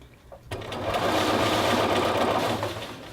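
A sewing machine stitches a knit jacket sleeve, giving a loud, close, continuous whirring run that starts abruptly after a brief quiet moment and holds steady to the end.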